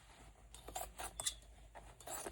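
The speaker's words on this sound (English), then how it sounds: "I'm just tearing away at these pants, hoping I don't cut the pants I'm wearing" Old pants being cut up with scissors, a quick run of close snips and rough fabric rustling, fairly quiet, with no one talking.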